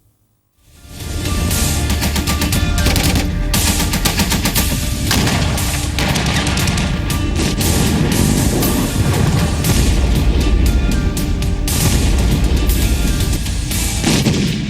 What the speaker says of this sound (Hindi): ये गोलीबारी